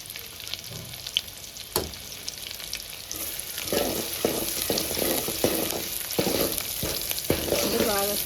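Curry leaves and two or three dried red chillies crackle and sizzle in hot oil as a tempering for Andhra-style dondakaya pappu, a steady close frying hiss with sharper pops and bursts of spattering throughout.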